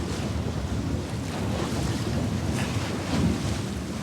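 A fishing boat motor drones steadily on open water while fighting a kingfish, with wind buffeting the microphone throughout.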